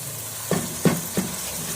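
Saag is added to spiced masala in a cooking pot, giving a soft sizzle and three short stirring or scraping pulses over a low background hiss.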